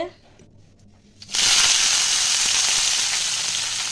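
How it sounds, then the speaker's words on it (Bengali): A sudden loud sizzle as bitter gourd hits hot oil, then a steady crackling fry that continues without a break. "উচ্ছেটাকে কিন্তু আমি আগে ভালো করে ভেজে নেবো"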